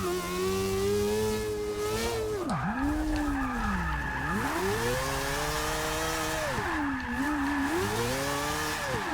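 A quad-rotor Audi R8 racing in Forza Motorsport 6 gives a steady, loud rotary engine drone. The pitch sweeps up and down through gear changes, with tire squeal and whine over it, and no talk.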